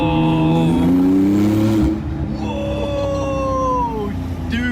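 A Porsche 991.2 Turbo in sport mode accelerates hard with a loud rising engine note up close, then shifts and pulls again more quietly as it moves away.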